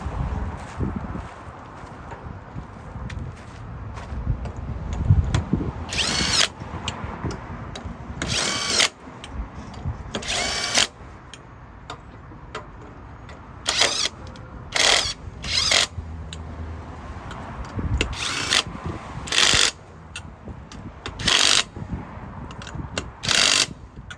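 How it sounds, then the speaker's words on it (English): An impact tool tightening trailer wheel lug nuts fires a dozen or so sharp ratcheting bursts, single and in clusters, between quieter pauses filled with mechanical background noise. "So I just have to tighten these lug nuts up"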